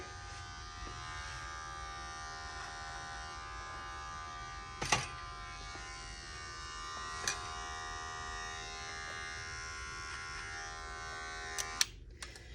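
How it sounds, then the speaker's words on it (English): An electric hair clipper buzzes steadily at close range as it cuts hair over a comb at the sideburn during a men's faux hawk haircut, with a few brief clicks and no talking. "I can always take my clipper over comb to finish out that blend if needed over his sideburn there."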